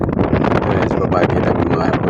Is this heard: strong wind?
yes